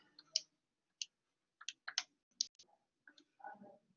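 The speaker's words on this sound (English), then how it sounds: "you type the 750 divided by 650" Calculator keys pressed during a physical science lesson, working out an inverse tangent of 750 divided by 650: a run of sharp, close plastic clicks and taps in uneven bursts, alone without voices.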